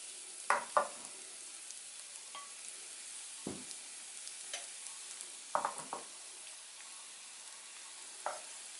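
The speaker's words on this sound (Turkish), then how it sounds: "Şimdi mantarımızı ve soğanımızı ilave ediyoruz." Mushrooms and onions tossed into a pan of toasted rice for a Turkish mushroom pilaf, giving a faint background sizzle punctuated by several sharp scrape-and-stir clatters of a spoon against the pot.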